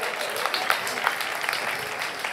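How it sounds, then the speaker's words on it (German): Audience applauding at a science slam in Karlsruhe, a few seconds of scattered, moderately loud clapping with some individual claps popping out. "bitte einen Applaus für die beleuchtete 8"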